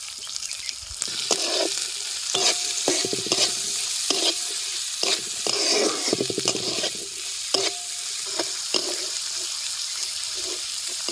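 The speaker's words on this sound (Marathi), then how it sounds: "आपल्याला कांदा चांगला लालसर तळून घ्यायचा" Onion and green chillies fry for poha in a continuous crackling sizzle, with repeated stirring scrapes and clatters of a spoon against the pan.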